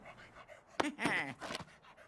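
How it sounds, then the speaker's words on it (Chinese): A cartoon dog in the video game Luigi's Mansion 3 pants in a few quick, breathy bursts, close and clear over a quiet background, with no speech. "谢谢你啊，乖狗狗。"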